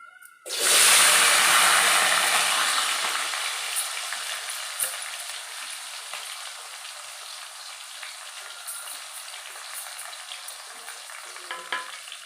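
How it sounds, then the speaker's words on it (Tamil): Onion, garlic and green chillies dropped into hot oil with mustard seeds, a sudden loud burst of sizzling that slowly settles into a steady crackling fry with scattered pops, no voices. "இதில் வெங்காயம் பூண்டு பச்சை மிளகா எல்லாமே சேர்த்துருக்கேன் இது நல்லா பொறிட்டுக்கும் நல்லா வதங்கி வரட்டும்"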